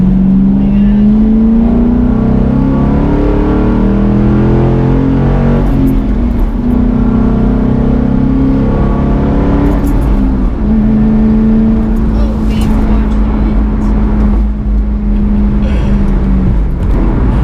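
A loud Ford Mustang engine roars steadily as it accelerates hard uphill onto a freeway, its pitch climbing and dropping through several gear shifts, with constant road and wind rumble.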